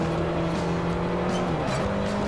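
In Forza Horizon, a racing car engine drones at high revs, loud and close, with a steady tone that dips briefly at gear shifts and faint tyre noise underneath.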